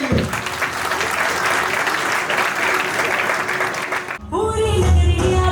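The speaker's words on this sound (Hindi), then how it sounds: "एक बारी जोरदार तालियां इन सबके लिए" Loud audience applause at a cultural program at a Jain temple in Shalimar Bagh, a dense steady wash of clapping lasting about four seconds before it breaks off abruptly and music begins.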